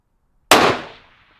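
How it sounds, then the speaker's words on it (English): A single long-range rifle shot aimed at a steel target cracks out once, sharp and loud, after silence, with a quickly decaying tail. "Fire again so I could just double check, but I think it was. Okay, firing."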